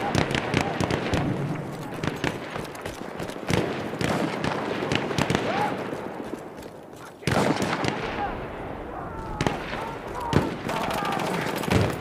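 Grenade blast and gunfire in Battlefield 1: rapid bursts of shots and sharp bangs crackle throughout, loud and close, with players talking over the combat.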